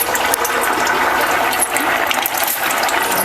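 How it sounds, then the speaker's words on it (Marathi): Food drops into hot oil heated on a wood stove and fries with a loud, close, continuous crackling sizzle that holds steady throughout, with no talk. "बघ आता तेलामध्ये सोडते"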